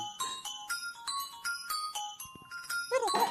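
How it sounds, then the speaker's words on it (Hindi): A phone ringtone chimes in a repeating bright melodic pattern, fairly close, with a brief voice at the very end. "अरे तेरा फोन बज रहा है।"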